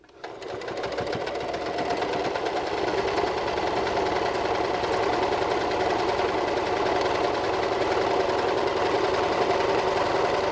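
A sewing machine zigzag-stitches along a beanie seam, a close, continuous, even whirring that holds steady for about ten seconds.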